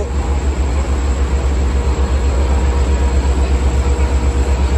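A steady, loud low rumble of a double-decker train at Jamaica station in New York, continuous throughout with a constant high whine above it and no voices.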